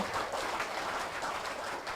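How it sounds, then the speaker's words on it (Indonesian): Steady, dense applause from a seated audience at a Joybiz gathering, a continuous wash of many hands clapping at once with no voices over it. "Beri tepuk tangan"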